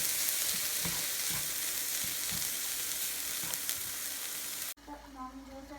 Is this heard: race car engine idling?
no